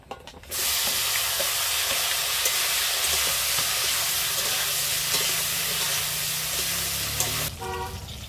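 Okra sizzling as it fries in hot mustard oil with turmeric and salt in a wok, a steady loud crackle with occasional stirring scrapes; it cuts off abruptly near the end.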